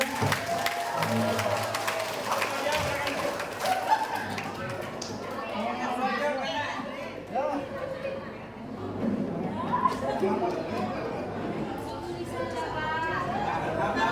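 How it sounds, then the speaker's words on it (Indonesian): An audience at an Islamic knowledge quiz final for primary school pupils in the Kangean Islands claps and chatters, a busy, continuous mix of applause and crowd voices with a host speaking over it. "ayo tepuk tangannya mana?"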